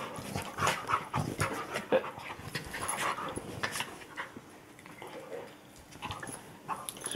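A dog pants rapidly and close by, with quick rhythmic breaths and a few soft whimpers, continuing for several seconds without talking.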